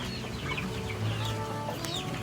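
Pure desi village chickens on a Konkan farm, including a three-and-a-half-month-old bird, clucking softly and intermittently at close range over a steady outdoor background, with no talking.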